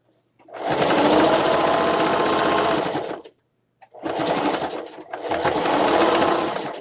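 A sewing machine stitches along the edge of a tote bag in three close, loud bursts, a long run followed by two shorter ones separated by brief pauses.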